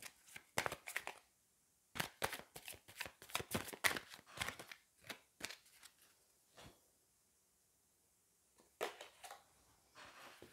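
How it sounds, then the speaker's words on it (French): Playing cards being shuffled and drawn for a tarot-style reading, heard as crisp riffling bursts and flicks close up, with irregular pauses between them and no talking. "on va aller prendre une deuxième carte"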